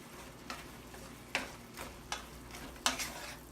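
Apples being stirred in a pan of butter-sugar caramel with ground cinnamon, a few soft scrapes and taps from the spoon spaced out over a low, quiet sizzle, with no talking.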